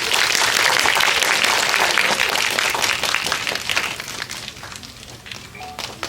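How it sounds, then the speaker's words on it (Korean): Sustained audience applause greets the cast of the film Harbin at a Megabox COEX Dolby Cinema talk event, dense clapping strong at first and gradually thinning out toward the end. "큰 박수로 맞이해주세요."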